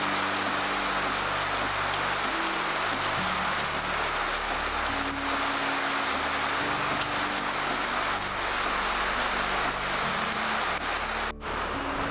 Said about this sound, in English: Like 1 minute I was outside, there was sun, and now it's all showers.